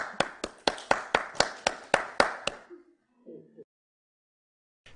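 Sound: applause for Terry Hunter

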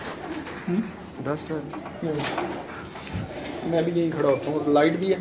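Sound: pigeon with black pearl eyes cooing

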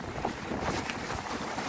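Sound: strong morning wind

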